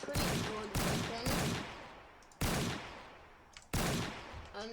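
Barrett rifle in a video game fires five heavy, sharply separated shots, each a loud crack trailing into a decaying echo, spaced roughly a second apart.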